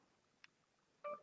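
A mobile phone gives a short alert: one faint beep, then a louder burst of two electronic tones near the end, sharp and tonal against near silence.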